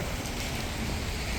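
Steady, dense rainfall in a video game, a continuous broadband hiss of drops on surfaces with no talk, holding an even level throughout.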